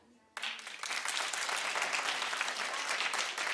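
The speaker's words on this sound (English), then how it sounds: "Clap if you do." A studio audience on a daytime talk show breaks into applause after a short lead-in of talk, the clapping sustained, dense and steady to the end.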